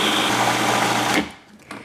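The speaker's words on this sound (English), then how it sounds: "We are going to turn the machine on and we're going to blend this until smooth." A blender runs at high speed mixing thick black bean brownie batter with chili pepper and chocolate, a loud steady whir for over a second before it cuts off and fades.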